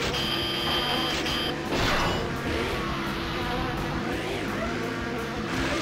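Bees buzzing in the Vigilante 8 video game, a continuous loud insect drone with wavering pitch over game noise, filling the whole stretch.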